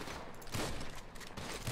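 Rapid gunfire in GTA 5, dense bursts of shots crackling in quick succession, loud and continuous for a couple of seconds with no talk over it.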